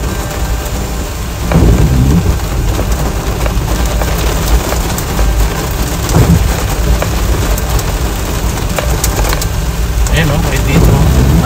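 Sudden heavy rain drums steadily on a car while driving home through flooded streets in traffic, a continuous loud wash with a few louder gusts and swells, along with faint bits of voice.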